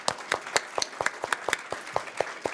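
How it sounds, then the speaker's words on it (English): Sparse applause from a small conference audience, about a dozen distinct claps in a loose, uneven rhythm, fairly faint and close, with no talk over it. "Shall we give them a round of applause?"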